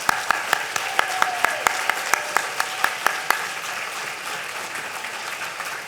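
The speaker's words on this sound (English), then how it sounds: "Give yourselves a round of applause." Audience applause at a village tenth anniversary celebration, a crowd clapping with a few sharp, regular claps standing out near the front for about three seconds before the applause thins to a softer background wash.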